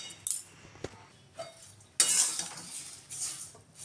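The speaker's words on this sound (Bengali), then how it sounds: "আমি কিন্তু সর্ষের তেল দিয়ে চিড়েটা ভাজি" Flattened rice fries in mustard oil with a scrape and clink of a utensil against the pan, then a louder, sustained hiss of frying under quick stirring.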